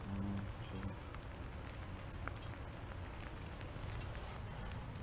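Steady rain patters on surfaces outdoors during an HVAC service job, a soft continuous hiss with scattered drops and a faint low hum underneath, fairly quiet throughout.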